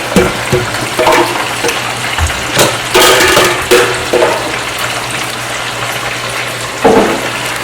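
Water sloshes and splashes in short bursts, rinsed and swirled into a pot, with a low hum underneath.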